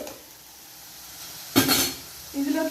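Onions frying in a pan for a mushroom curry sizzle softly, then a spoon stirs them with a brief scraping clatter and a second short stir, close and moderately loud.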